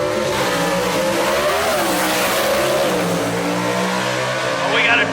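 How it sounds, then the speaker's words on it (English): Gasser drag race cars launch and roar down the strip at Knoxville Dragway, their engines revving loud and sustained with rising and falling pitch while a commentator talks over them. "Well, we got a drag race here, folks."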